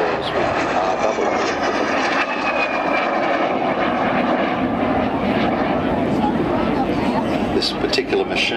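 A two-seat trainer aircraft's engine at the Point Cook airshow, a loud steady drone that holds throughout, with a faint pitch glide and a commentator's voice over the top.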